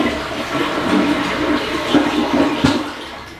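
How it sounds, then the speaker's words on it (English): A newly installed toilet flushes, a steady rushing swirl of water that holds for a few seconds, close and fairly loud, with a couple of brief knocks near the end. "Flush."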